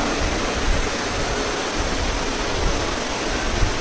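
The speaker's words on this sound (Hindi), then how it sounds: "जब पानी गिर रहा होगा," Heavy rain falling in Gurugram, Haryana: a loud, dense, continuous hiss of downpour, steady throughout with no voices.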